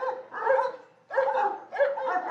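Dogs at a kennel in Manila, including one named Chico, bark in three loud, close bursts, each lasting roughly half a second, with brief pauses between them.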